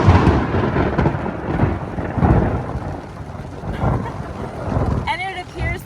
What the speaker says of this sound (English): it appears that the thunder and lightning is right on us